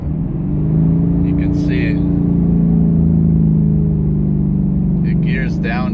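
Engine of a 2019 Ford Mustang GT rising under hard acceleration from inside the car, a steady droning harmonic that climbs in pitch and holds loud beneath someone talking over it.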